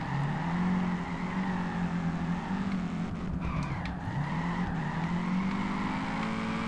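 Racing cars in the PC drifting game Peak Angle give a steady engine drone with drawn-out tire skids and squeals at moderate level, with no talk.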